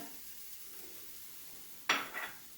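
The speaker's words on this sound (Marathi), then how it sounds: "गरम कढईत आणि थोडंसं परतून घेणार खोबरं" Grated coconut hits a hot kadhai alongside roasted chillies after the gas is switched off, one sudden sharp sizzle and scrape breaking a quiet background, then fading with a smaller second burst.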